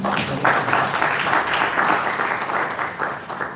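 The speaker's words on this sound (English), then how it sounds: "Give her a round of applause." Audience applause fills a conference hall during a session on Black immigration and refugees, a dense, steady wash of many hands clapping that carries on for several seconds at a fairly loud, even level.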